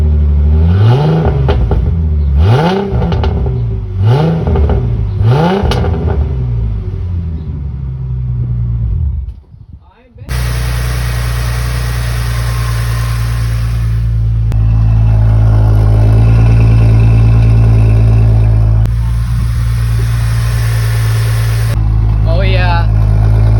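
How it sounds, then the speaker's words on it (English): A 2007 Ford Mustang V6 fitted with a new throttle body spacer revs up loudly in several rising and falling bursts. After a brief pause it settles into a steady, deep rumbling idle with some further throttle changes. "We're gonna do a couple revs with the new spacer on."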